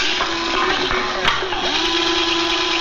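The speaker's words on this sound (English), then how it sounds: "And drill a hole." A power drill whines steadily as it bores a hole into a can pinned against wood, a continuous close mechanical drone with slight pitch dips under load.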